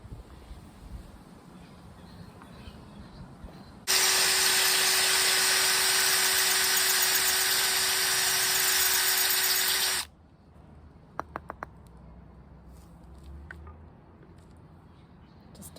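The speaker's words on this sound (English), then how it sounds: "So we'll try this one with the drill bit, see if it's quicker" A drill whines loudly and steadily for about six seconds, boring through a pot, then stops abruptly, leaving quiet ambience and a few small clicks.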